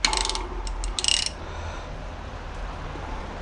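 A wrench ratchets as it loosens a bolt on the crankcase of a Virago 125 motorcycle, giving a few quick clicking bursts close by in the first second or so, then fading to quiet.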